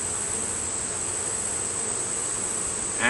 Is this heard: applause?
no